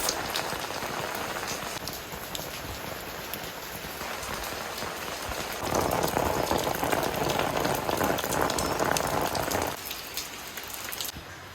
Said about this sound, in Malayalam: പുറത്ത് നല്ല മഴ പെയ്യുന്നുണ്ട് കേട്ടോ